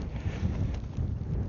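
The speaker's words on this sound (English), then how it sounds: "the wet and windy weather." Wind roars across the microphone on a wet, windy countryside walk in Elstead: a continuous low buffeting rumble with no voices.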